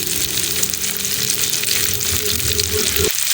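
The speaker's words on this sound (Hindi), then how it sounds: "हम इन सब चीज़ों को हम चम्मच के साथ हिला लेंगे अच्छे तरीके से" A spoon stirs salt, turmeric and red chilli powder through a sizzling potato and egg curry, a loud, continuous close frying hiss with faint scraping that cuts off abruptly near the end.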